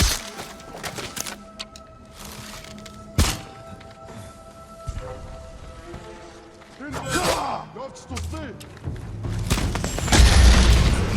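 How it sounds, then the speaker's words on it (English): A gunpowder charge blows apart a wooden gate in Ghost of Tsushima Legends, a sharp thud followed by splintering, crashing debris and rumbling, set among cutscene music and effects. "The ghosts found powder to destroy the gate."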